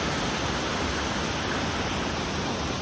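A creek runs over rocks, giving a constant, even rush of flowing water that holds steady throughout with no talk.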